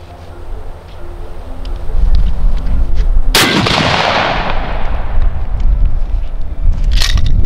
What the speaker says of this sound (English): So I'm gonna shoot one because I want to see what it feels like